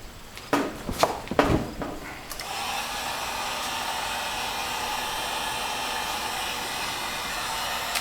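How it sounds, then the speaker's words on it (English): A heat gun used on a ceramic throwing piece, a few knocks and handling bumps, then the steady airy whoosh of the gun switched on and running continuously at close range. "This is a heat gun, by the way, it's not a hairdryer."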